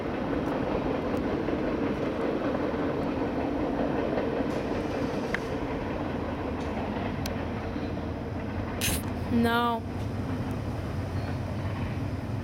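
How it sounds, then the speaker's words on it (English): A freight train rumbles steadily past at a railway crossing in Naperville, a continuous close rolling roar with wheel clatter, and a brief squealing, chirping tone near the end. "Just another freight train."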